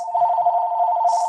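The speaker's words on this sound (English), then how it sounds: "That's my phone, just, it'll stop." A mobile phone rings in a quiet room with a steady, pulsing electronic tone that holds continuously, loud and close, with no voices over it.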